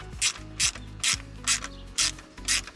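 A ratchet tightens the timing crank sensor on a 2011 Mazda CX7. Six short, crisp bursts of pawl clicking come in an even rhythm, heard close up with nothing else around them.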